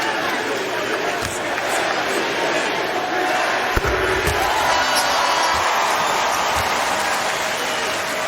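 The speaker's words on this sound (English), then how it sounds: "Crowd didn't want to get too loud with that MVP chant. It was kind of a meek one." Basketball arena crowd during a Houston Rockets home game against the Oklahoma City Thunder, a steady broad roar of voices with scattered thumps and a subdued, restrained chant running throughout at moderate distance.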